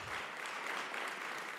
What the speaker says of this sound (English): help me give our students a round of applause for that amazing rendition